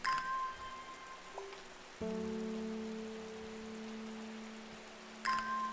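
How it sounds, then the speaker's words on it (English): Rain in the video game Strange Horticulture, a faint steady hiss of rainfall heard in the background beneath sustained soft game tones and brief chime sounds at the start and end. "So, how about that weather, Ruben, right? You like the rain?"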